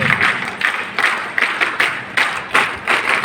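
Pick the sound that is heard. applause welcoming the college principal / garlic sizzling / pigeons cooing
applause welcoming the college principal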